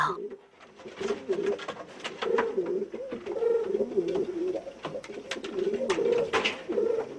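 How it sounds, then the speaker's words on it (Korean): Several pigeons coo repeatedly nearby, their low throaty calls overlapping in a continuous, rolling chorus. "비둘기들은 끊임없이 울어댔어요"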